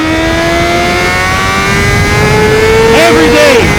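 A Honda CBR600RR sport motorcycle engine revs steadily while riding, a loud continuous high-pitched whine that climbs slowly in pitch, with a voice talking briefly near the end.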